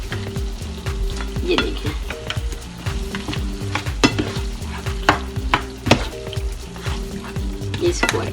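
Khara masala mutton with whisked yogurt frying in a pan, loud bubbling sizzle broken by repeated scraping and stirring strokes of a spoon against the pan, with a brief voice speaking.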